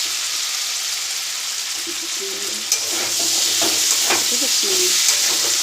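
Small prawns fry in a pan with a constant bright sizzle and hiss. A few stirring knocks come through, and faint murmuring or tonal sounds sit low beneath the frying.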